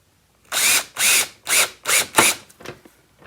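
Power drill driving a screw into a wall-mount pet door tunnel piece, five loud whirring bursts in quick succession followed by a few shorter, fainter pulses.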